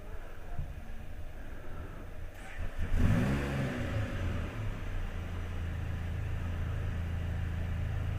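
A Can-Am F3 engine idles low, then bursts into a sudden short rev from an accidental throttle blip before settling back into a steady, rumbling idle.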